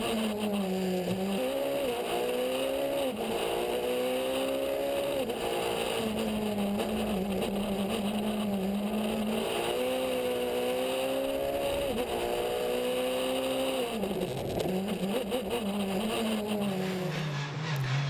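Skoda Fabia Super 2000 rally car at full attack on a slippery, greasy Belgian rally stage, engine screaming loud and close as it revs up and down through repeated gear changes, with tire noise and occasional skids.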